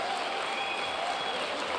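Steady applause from a crowd at a political speech, a dense continuous clapping wash with no breaks, fairly loud and unbroken across the whole moment.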